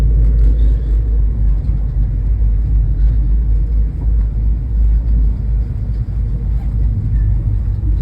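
A Canadian passenger train moving along, heard from inside its corridors as a loud, continuous low rumble with steady mechanical droning. No clear voices rise above it.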